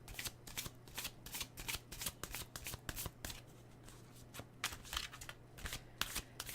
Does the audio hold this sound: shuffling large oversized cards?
yes